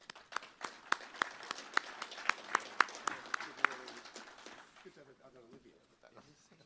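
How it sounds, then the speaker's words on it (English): An audience claps at a public forum, with sparse individual claps that thin out and fade over several seconds as the room goes quiet. "Let's give him a round of applause."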